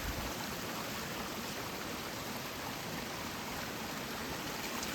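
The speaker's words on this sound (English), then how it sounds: "I got my foot in the waterfall. You can see the water running." A waterfall along the Roaring Fork Motor Trail pours water in a constant, even rushing hiss, close and uninterrupted throughout with no voices.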